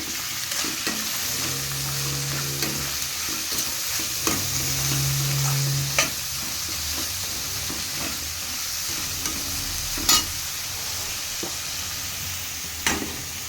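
Tomato for puffed rice upma fries in a pan, a steady soft sizzle with scattered scrapes and clinks of a spoon stirring, close and without talk.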